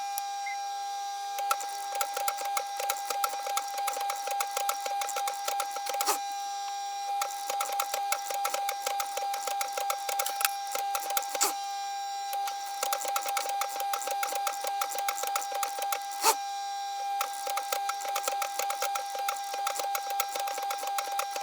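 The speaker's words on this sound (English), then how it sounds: "using a zigzag stitch on your machine, do the same thing as you're going around" A home sewing machine running a zigzag stitch around the edge of a reusable fabric makeup wipe, a steady close mechanical whir and rapid clatter with a few brief pauses and restarts, no talking.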